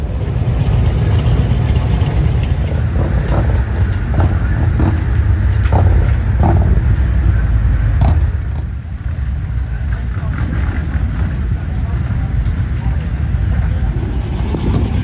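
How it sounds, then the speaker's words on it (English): Motorcycle engines rumble and idle in heavy traffic at Daytona Beach during Biketoberfest, a steady close engine drone that eases slightly partway through, with someone talking over it. "There's definitely a lot more motorcycle traffic out here today than there was yesterday."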